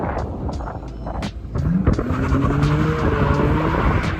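A BMW E46 330i drifts with its engine revving and tires squealing in long sustained screeches, loud and near, after a few sharp knocks at the start.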